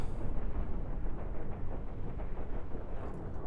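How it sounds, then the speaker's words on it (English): In the Cosmoteer space-combat game, Gatling gun and cannon fire merge into a dense, continuous roaring barrage that stays loud and steady throughout. "the Gatling is causing a bit of havoc here. Together with the cannon."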